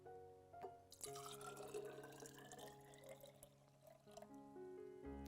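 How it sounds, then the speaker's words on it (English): Water poured from a glass into a bottle, a continuous trickling and gurgling pour lasting a few seconds at low volume, over a faint steady hum. "I pour the first glass."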